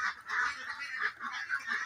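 A flock of farm-raised white Pekin and Kalaring ducks, about two months old, call in a close, continuous chorus of nasal honking quacks that rise and fall in overlapping bursts.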